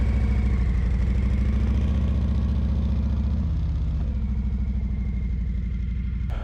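A loaded touring motorcycle on a solo camping trip idles close by before riding off, a loud, steady, throbbing engine note with slight pitch shifts and no talking.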